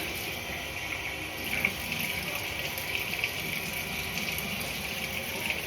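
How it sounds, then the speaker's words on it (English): Steady running water flowing while hair is washed, a continuous close hissing splash with faint irregular spatters, unbroken and without talk. "Okay, washing my hair time."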